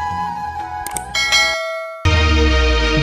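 Ringing bell tones chime a few times in quick succession, clear and sustained like a notification jingle, with a short gap of near silence before a louder musical swell resumes.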